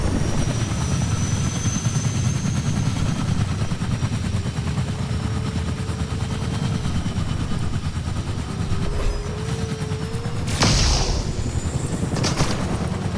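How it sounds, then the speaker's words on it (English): A helicopter in the video game Fortnite flies with a steady, loud, dense rotor roar throughout, joined near the end by a couple of sharp bursts that sound like gunfire. "Hopping back in the chopper."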